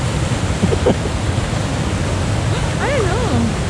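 Continuous roar of falling water from a waterfall in winter in Washington DC, a dense broadband rush throughout, with faint voices talking briefly under it.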